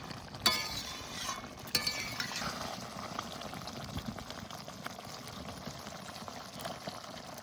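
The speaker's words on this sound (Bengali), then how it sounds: "আর একটুখানি ঝোল টানবে, একটু ভালো করে জাল দিই, তাহলে হয়ে যাবে।" Chicken liver and gizzard curry bubbling and simmering in a pan, a soft continuous sizzle with a couple of brief clinks near the start, no talking.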